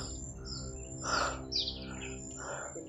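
A crow gives a few harsh caws, two louder calls close together, over a steady low engine-like hum.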